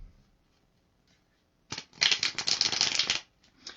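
A deck of tarot cards is shuffled by hand, first with a few faint taps and then a loud, dense riffling flutter lasting over a second, followed by a short final ruffle, with no voices.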